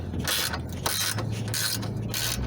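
A nut being loosened with a ratcheting wrench on a roof-mounted solar panel bracket atop a GMC Safari or Chevy Astro passenger van, giving bursts of rapid metallic clicking in a steady back-and-forth rhythm, close and loud.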